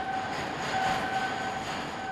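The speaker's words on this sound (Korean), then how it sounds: "컴컴한 터널 속으로 케이블 열차를 타고 시내로 내려간다" Steady rumbling rail noise of a cable train descending through an enclosed undersea tunnel, with a faint high whine from the wheels, constant and moderately loud.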